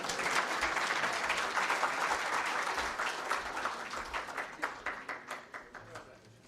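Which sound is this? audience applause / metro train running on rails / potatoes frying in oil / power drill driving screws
audience applause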